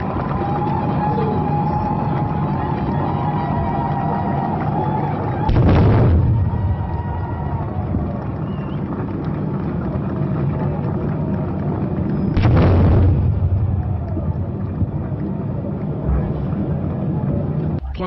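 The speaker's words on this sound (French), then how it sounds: "Coups de canon retentissent à nouveau, suivi de la descente de l'ancien drapeau, accompagné de 5 autres coups de canon" Two heavy cannon salute shots boom during a flag ceremony for a new constitution in Goma, Democratic Republic of the Congo, spaced about seven seconds apart over a steady crowd and outdoor background with a voice speaking.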